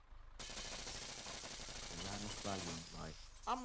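A truck window shatters from gunfire in a video game, a sudden bright crash of glass fragments followed by crackling debris, with voices talking over the tail end.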